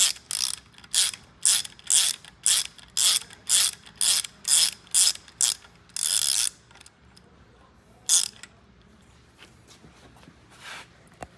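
A ratchet wrench clicks in a quick repeated series of bursts while a tap chases the threads of an exhaust manifold bolt hole on a 1966 Ford Thunderbird, then pauses before one last short burst, close and loud.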